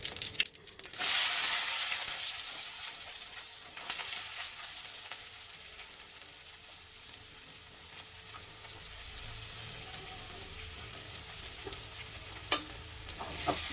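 Chopped big onions frying with tempering spices in a pan for cauliflower kurma, a bright steady sizzle with a sharp clatter at the start and scraping stirs, close and continuous.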